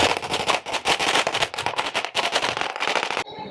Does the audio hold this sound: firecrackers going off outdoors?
yes